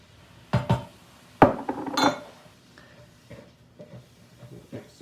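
Frito pie ingredients, enchilada sauce and black beans among them, being stirred in a metal casserole pan: a few sharp clanks and scrapes of a utensil against the pan, then quieter intermittent taps and scraping.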